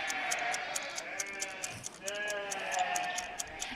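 Sheep bleat repeatedly in wavering, close calls, several overlapping voices rising and falling across the few seconds, with some background talk.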